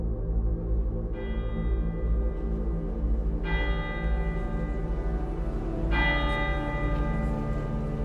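The church bells of Saint-Jean-Baptiste ring out with three clear, resonant strikes a few seconds apart, each note lingering and overlapping under a continuous low rumble.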